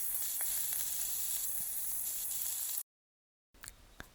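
Onions, green chillies and curry leaves fry in a pan with a steady, soft hiss and sizzle. The sound breaks off abruptly, then returns with a few faint pops and crackles.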